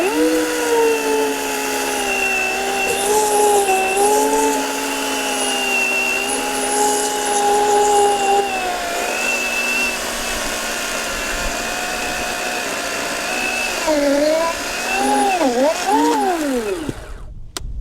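Ryobi electric chainsaw cutting through a thick tree trunk, a steady loud motor whine under load that shifts pitch near the end as the cut finishes.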